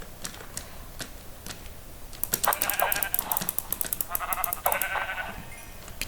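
Video-game sheep let out several bleats in quick succession over a few seconds, mixed with sharp clicking taps like keyboard or mouse input against a quiet background.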